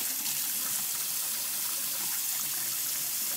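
Steady gush of running water from a tap as a freshly soldered control board is rinsed off, a continuous close hiss with no talking.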